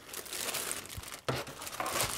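Plastic protective wrap crinkles and rustles as a Corsair K70 RGB keyboard is unpacked, a close, continuous crackling with a sharper burst partway through.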